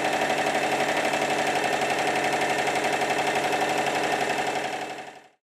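A Stuart triple model steam engine runs on a bench test plant with a rapid, even chuffing beat, steady and close, then cuts off abruptly near the end.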